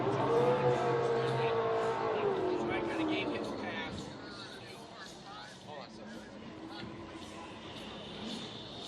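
A Formula Drift competition car sits revving at the start line on the Long Beach street circuit, its engine rising and falling behind crowd noise, with a commentator talking over it throughout.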